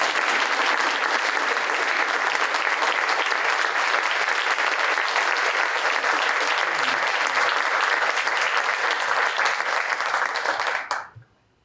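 Steady, loud crowd applause fills a theatre at its opening ceremony, continuing evenly for about ten seconds before cutting off abruptly.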